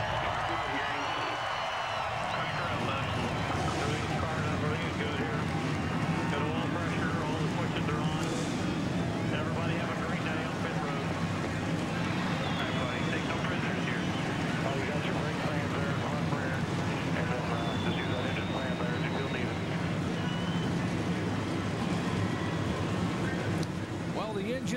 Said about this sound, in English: Engines have fired